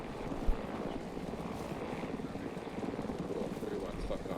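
A helicopter in a military video game makes a rough landing, its rotor thudding in a loud, steady chop with wind-like rush and a heavy low thump, under radio chatter and voices.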